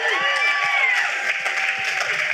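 An audience at a TV writers' panel event applauds and cheers, a broad wash of clapping running under overlapping talk and voices nearby.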